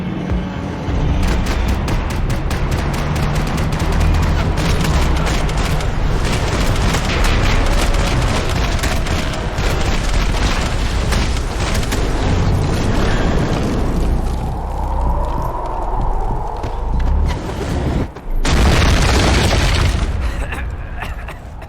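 Gunfire in the action video game Max Payne 3: dense, loud bursts of shots and booming impacts run almost without a break, with a short lull near the end before a final burst. Voices talk over the shooting.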